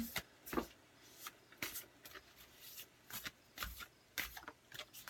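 Quiet, close card shuffling in repeated short riffling bursts, with soft rustling between them.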